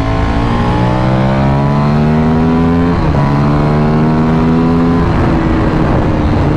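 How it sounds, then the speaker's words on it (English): A sport motorcycle engine revs loudly and steadily with a rising, whining pitch, dipping briefly midway before climbing again, close and continuous. "Let's get a sound clip of this awesome bike."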